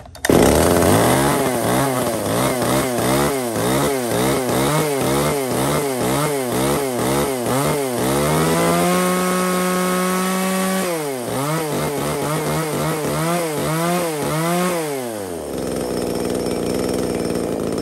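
A used Japanese chainsaw engine runs loud and close, blipping through rapid repeated revs, holding a high whine for a few seconds, revving again, then dropping back toward idle, with no talking.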